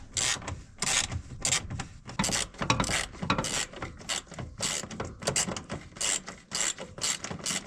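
A ratchet wrench clicks in repeated short bursts as it is turned back and forth, close and sharp, with uneven rhythm and pauses between strokes while working on a 1971 Soviet KrAZ-255 military truck.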